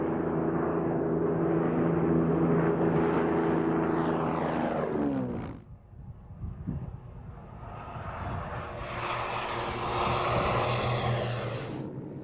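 A Mark IX Spitfire fighter's piston aero engine roars loudly and steadily, its pitch sweeping down as the aircraft passes, then building again in a second strong drone, with no talk over it.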